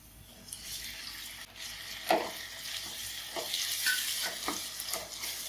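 A faint, steady sizzle of tomatoes and ginger-garlic paste frying in oil in a pan, with a few soft stirring clinks and scrapes scattered through.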